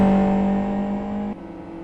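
Steady, buzzing race car engine drone from a GT racing video game broadcast, holding a constant pitch before dropping abruptly to a lower, quieter hum partway through, with no voices over it.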